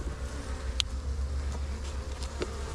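Honeybees buzzing at a seven-to-eight-frame hive being built up for almond pollination, a continuous low drone with individual bees passing close by, steady throughout and with no voices.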